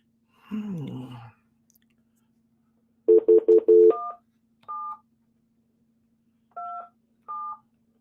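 Telephone dialing tones: a short muffled rustle, then a quick run of rapid beeps followed by several spaced two-tone keypad presses, clear and isolated against silence.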